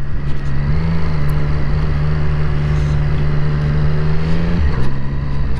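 A 2020 Triumph Street Triple RS motorcycle cruises along at a steady, leisurely pace, its engine droning continuously and close by with a brief dip in tone near the end.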